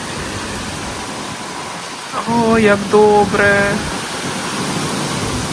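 Heavy rain after 40-degree heat makes a steady, dense rushing hiss that fills the whole stretch, close and loud, while someone briefly speaks over it partway through.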